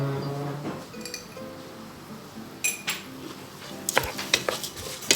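Washed rice sautéed in oil in a pot, with a spoon scraping and clinking against the metal in irregular bursts over a low sizzle, growing busier toward the end.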